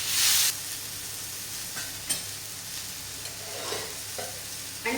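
A moong dal uttapam with vegetables sizzles on a hot pan and is flipped: a loud hiss burst at the start, then a lower crackle with a few scraping taps of the spatula, and no talk.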